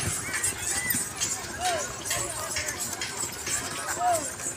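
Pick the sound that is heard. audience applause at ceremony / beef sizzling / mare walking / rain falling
mare walking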